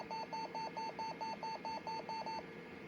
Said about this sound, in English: It also beeps rapidly.